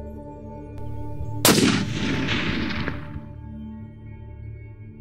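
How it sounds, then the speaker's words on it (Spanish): A single loud rifle shot at a mouflon during stalking cracks out, then a long rolling echo fades over a couple of seconds against a quiet background hum. "Es un disparo largo."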